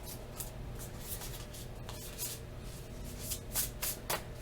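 Tarot cards shuffled by hand, a soft continuous papery rustle broken by brighter riffling bursts, close and fairly quiet with no talking.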